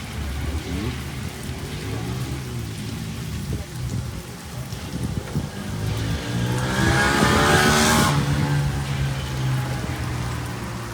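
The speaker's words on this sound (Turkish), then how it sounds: "Kızarmaya başladı." Lokma dough frying in hot oil at a Gaziantep sweet maker's stall: a steady, rain-like sizzling hiss that swells louder partway through, over a low background rumble.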